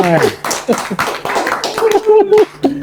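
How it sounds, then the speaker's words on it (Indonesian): Rhythmic scout-style group clapping in a fast patterned beat, sharp repeated hand claps mixed with talking and laughter close by. "Kayak tepuk pramuka ya."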